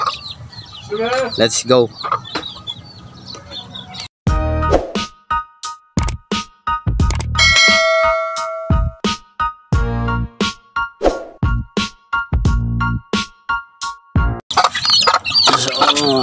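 Chickens cluck and a rooster calls inside a small backyard chicken coop, with bursts of clucking and squawks scattered throughout, while someone talks over them and briefly coaxes the birds.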